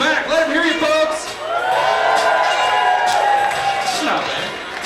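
A comedy club audience at the Funny Bone cheers and whoops loudly for comedian Ian Bagg, a sustained wash of raised voices and shouts that swells and holds for several seconds.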